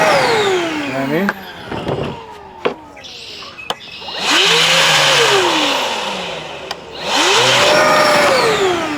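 A Milwaukee 6 gallon shop vac set to blow mode runs in loud, steady bursts with a rising then falling whine at start-up and shutdown, two long runs separated by a quieter gap with knocks and voices.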